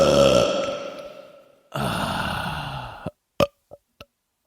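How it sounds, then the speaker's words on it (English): A man lets out two long, drawn-out belches close to the mic, followed by a few short pops. "You don't want the belch."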